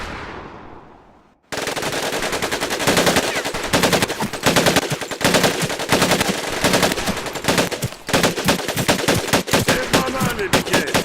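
An automatic machine gun in the Pacific-theater shooter Medal of Honor Pacific Assault fires loud, rapid bursts that continue for roughly nine seconds with small gaps between them, after a fading tail of a previous sound.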